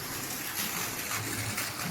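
Water from a submersible bore pump pouring steadily into a farm well, a continuous broadband gushing rush with no breaks, fairly loud and close, no voices over it.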